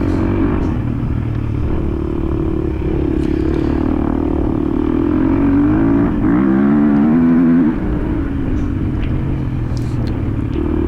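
A 2023 KTM 350 XC-F dirt bike churns through a muddy hare scramble, its engine droning steadily and loud with a rising, wavering rev in the middle, all without voices.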